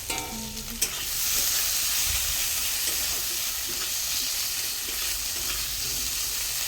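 Onion, garlic and ginger paste with chili sizzles and spits steadily in hot oil, a loud continuous frying hiss with occasional stirring, close by.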